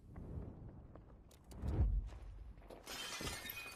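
Glass shatters in the Battlefield 5 Operation Underground map, a sharp burst of breaking at mid-clip amid muffled in-game thuds and rumble, followed by a noisy crackle near the end.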